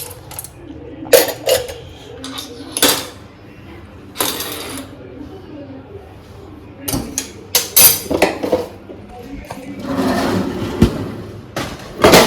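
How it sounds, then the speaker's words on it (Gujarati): Pots and utensils are pushed aside while tidying a home kitchen after making pasta. The clatter comes in scattered bursts of metallic clinks and knocks, some sharp and loud, with quieter stretches and faint background noise between them. "પહેલાં બધું સાફ કરી દઈએ આપણે. અહીંયા સાઈડમાં મૂકી દઈએ વાસણને એક સાઈડમાં."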